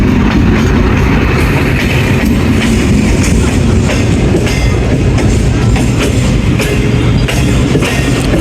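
Jaffar Express passenger train from Peshawar bound for Quetta rolling along, a loud continuous rumble with faint rhythmic wheel clatter heard from inside the coach.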